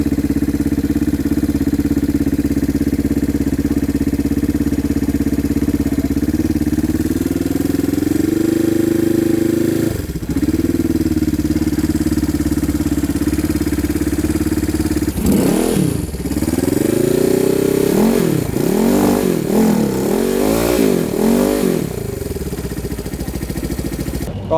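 A Yamaha XS250 shed-built cafe racer motorcycle with an Alpha 41 silencer starts and settles into a loud, close idle, then takes a series of sharp, rising and falling throttle revs, with no talk.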